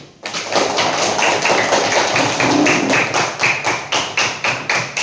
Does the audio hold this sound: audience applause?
yes